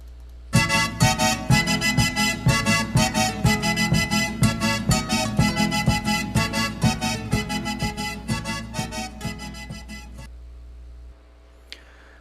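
A lively Chilean pericona folk rhythm played on strings, with busy, driving accents repeating steadily for about ten seconds before stopping.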